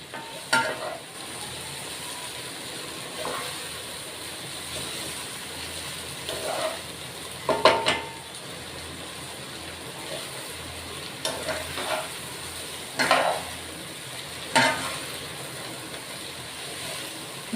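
Bhindi masala made with okra sizzles steadily in a pan while being stir-fried and mixed, with periodic scraping strokes of a spatula and a soft constant frying hiss.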